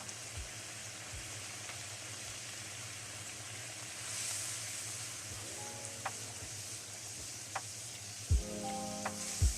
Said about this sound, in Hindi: मसाले अच्छे से भून रहे हैं